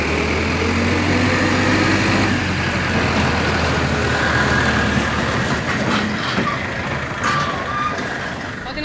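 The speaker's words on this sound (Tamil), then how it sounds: "அடுத்ததாக பார்த்தீங்கன்னா HMT டிராக்டர் பார்த்தீங்கன்னா எம்டியாக வந்து லோடு போட வருது." An empty HMT tractor rolls up to a mill to take on a load, its engine a steady low drone with rattling and clanking from the machinery, loud and close throughout.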